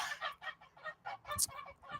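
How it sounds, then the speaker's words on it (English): Several geese honk in repeated bursts in the background, a rhythmic run of nasal calls at moderate distance, with no talk over them. "I don't know if you can hear my geese in the background,"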